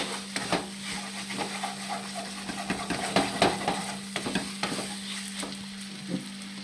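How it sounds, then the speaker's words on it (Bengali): Spices stirred and fried in mutton fat for ghugni, a steady sizzle with repeated scraping stirs of a spoon against the pan, close and continuous. "মশলার সাথে বেশ খানিক্ষণ কষতে থাকবো মশলা চর্বির সাথে"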